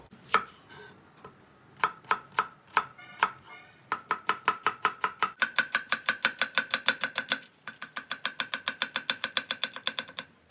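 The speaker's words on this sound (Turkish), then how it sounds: "Bu havuçları falan iyi doğramayın" A knife chops carrots steadily on a cutting board, starting with a few spaced strikes and then speeding into a fast, even run of crisp, close taps.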